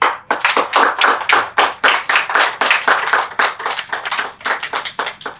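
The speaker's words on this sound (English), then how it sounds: "I think we should applaud them" Audience at a horticultural expo launch in Accra claps in a clear, rapid series of distinct hand claps, a small group applauding at close range with a slightly irregular rhythm for about five seconds.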